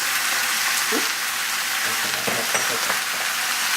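Green chili and a pinch of turmeric powder frying in a pan for a green mango chicken dish, a steady close sizzle with a few soft stirring scrapes and no talk.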